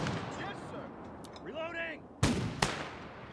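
Weapon fire in the WWII strategy game Gates of Hell: Ostfront, USA vs. USSR battle in a pine forest: two sharp, loud gunshot blasts in quick succession near the end, following softer in-game battle noise.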